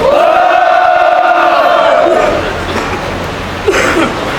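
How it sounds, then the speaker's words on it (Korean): A crowd at a candlelight protest rally against rail privatization roars and shouts in a loud sustained cheer for about two seconds, then drops to murmuring chatter with a brief burst of laughter. "우리 윤미로 분에게 힘찬 함성으로 맞아주시면 감사하겠습니다"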